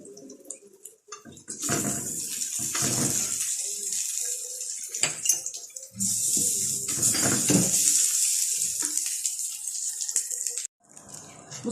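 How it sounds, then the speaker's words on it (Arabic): Water poured from a vessel onto lentils in a pot while cooking koshari in a home kitchen, a steady splashing pour in two long stretches with brief pauses and a few clinks, close and fairly loud. "انا اول ما حطيت رحت سقيت الميه بتاعه العدس الاول"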